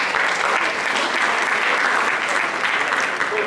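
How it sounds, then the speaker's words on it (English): Audience clapping for a head track and field coach at a high school football championship ring ceremony, a loud, even wash of applause sustained throughout. "Let's give him a round of applause"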